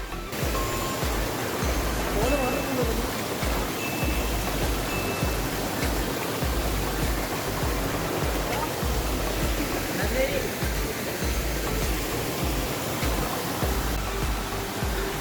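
Steady rushing water roars continuously, a broad dense wash from a nearby waterfall at Urulikund, Irikkur, with faint voices now and then beneath it.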